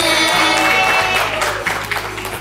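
Audience applause for Tete Ayu Diki at an event hosted with partners, a dense steady wash of clapping that holds loud and then gradually thins out.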